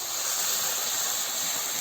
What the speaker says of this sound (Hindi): पानी था कर्नाली के साग का, अब उसे डालते हैं।